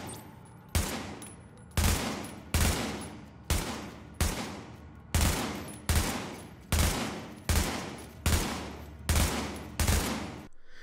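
AUG rifle in the video game The Division firing a steady series of about a dozen evenly spaced loud single shots, each with a short decaying echo, close and without talking.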